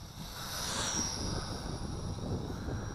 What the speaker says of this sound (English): this is a cheap camera quadcopter